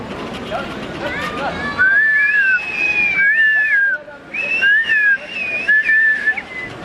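Tea workers whistle a bird-like language at an outdoor protest, bright gliding whistles in rising and falling phrases that follow a stretch of crowd noise and chatter, loud and close.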